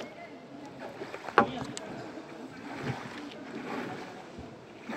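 A boat moves on a river with soft water wash and wind noise, a sharp knock partway through, and faint voices in the background.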